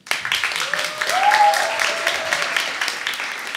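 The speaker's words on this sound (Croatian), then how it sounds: "I pljesak navijačima." Audience applause for the supporters at the Euroscola Sisak 2015 student event in a hall, a steady wash of clapping with a brief whistle or cheer rising above it midway.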